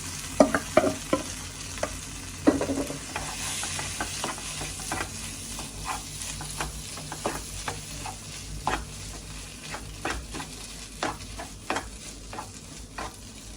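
Beans are stirred into a mixture in a pan for sweet susiyam snacks, with a steady series of scraping, clinking spoon strokes over a faint sizzle, close and fairly quiet.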